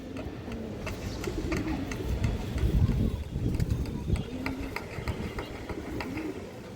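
A male black dopas pigeon coos in soft, repeated low calls close by, alongside other pigeons, with someone talking over the birds.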